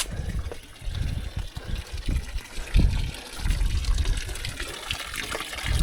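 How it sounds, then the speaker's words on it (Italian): Water running from an old village fountain beside a stone wash basin, a steady outdoor gush and trickle with irregular splashes close by, continuous for the whole stretch. "Anche qui c'è la fontana, ma c'è l'acqua anche."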